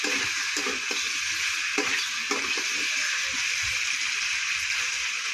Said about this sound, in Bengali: মশলা ভালো মতো কষাবো।